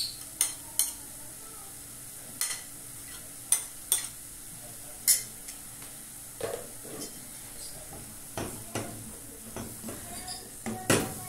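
Ground meat and carrot sautéing in a pan, a continuous low sizzle broken by sharp utensil scrapes and clanks against the pan at irregular intervals, close up, with brief bits of voice.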